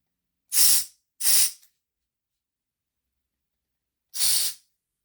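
Aerosol cleaner sprayed onto motor parts of a Hornby Dublo Class 28 Co-Bo model locomotive: two quick hissing bursts in close succession, a pause, then a third burst, loud and close with silence between.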